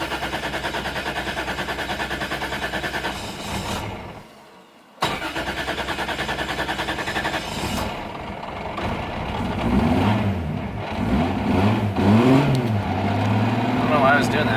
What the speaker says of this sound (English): See how this thing does its hot start.